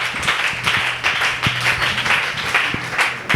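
A church congregation applauds during a service, with a steady wash of clapping hands and sharper individual claps standing out at intervals across the crowd noise.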